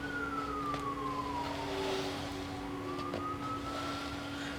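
Emergency vehicle siren wailing outside, rising and falling in long sweeps as it passes at a moderate distance, over a steady low hum and faint traffic, no talking.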